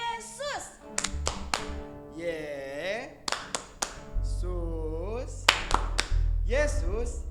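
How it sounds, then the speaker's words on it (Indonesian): Children at a Sunday school service clap along in a rhythmic hand-clap game, sharp separate claps falling in patterned groups between sung and spoken chanting, with a low hum partway through. "Kita coba tepuk Yesus."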